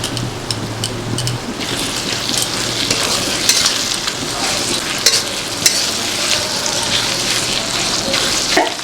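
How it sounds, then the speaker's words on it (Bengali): Ground garlic, ginger, coriander-cumin and Kashmiri chili pastes frying for a mutton curry with potatoes: a dense, continuous rain-like sizzle close by, with faint stirring scrapes and a few small pops scattered through. "এবার মশলাটাকে ভালোভাবে কষাতে হবে"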